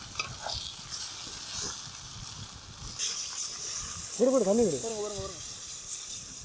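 Water hits a hot pot of cooking curry with a sudden steady sizzling hiss that keeps going, while voices talk nearby.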